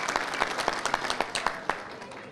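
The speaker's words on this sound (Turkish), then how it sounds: "Yaman İnşaat'a güçlü bir alkış veriyoruz" Audience applause at a Turkish scholarship fundraiser honoring a construction company donor, with distinct individual claps standing out over a softer crowd wash, moderately distant.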